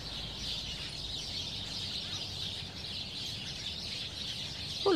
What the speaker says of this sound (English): heaps of different birds singing away to each other.